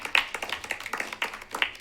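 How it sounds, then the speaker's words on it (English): Clapping at a school board of education meeting: a small group's distinct hand claps in an irregular, fairly quick rhythm, moderately close and unaccompanied by talk. "We clap, but we're sad."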